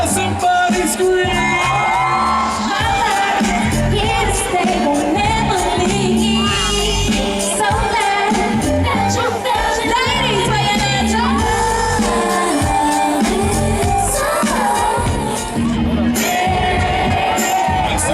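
Large outdoor concert crowd at SeaWorld San Diego screaming, whooping and cheering loudly and continuously over amplified music for the whole stretch.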